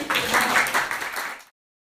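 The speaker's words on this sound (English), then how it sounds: "Can we have a round of applause for that?" An audience at a meet-and-greet with an AI researcher breaks into brief applause, a short burst of clapping that holds for over a second and then cuts off abruptly to silence.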